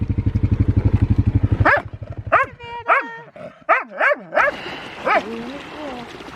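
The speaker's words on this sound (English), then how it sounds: "There's the puppies." Puppies yip and whimper in high, rising cries, several in a row close by, following a rapid rhythmic panting or pulsing sound, at a camp.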